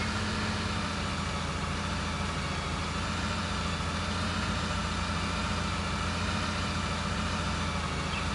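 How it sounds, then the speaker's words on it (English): Tractor engine in Farming Simulator 19, running at a steady low idle while slowly reversing toward an implement; a constant, even rumble with no talk over it. "get your tractor all straightened out. Start slowly backing up to that thing."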